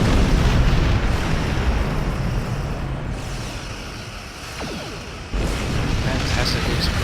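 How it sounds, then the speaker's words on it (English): Spaceship explosions in the space combat game Star Trek Online, heavy rumbling booms roaring loud at first and easing off before another burst kicks in near the end. "massive explosions"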